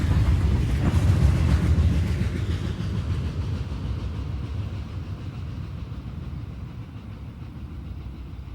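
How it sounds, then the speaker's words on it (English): A GP40-2 diesel locomotive and its partner units haul a CSX train through a curve, a loud rumbling roar with rolling rail noise that gradually eases as the train passes, heard without any speech. "This GP40-2 and its partners plow through the Rockwell Run curve with R342."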